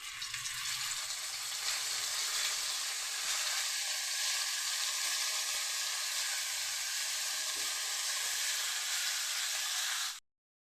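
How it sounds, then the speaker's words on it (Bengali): Cauliflower florets frying in hot oil give a steady, dense sizzle with no voices, running unbroken until it cuts off near the end. "আমি ফুলকপিগুলি ভেজে নেব।"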